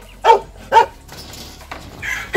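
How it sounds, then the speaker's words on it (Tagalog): A dog barks twice in quick succession at a racing-pigeon keeper's place, fairly near and clear, followed by quieter background noise. "May aso eh."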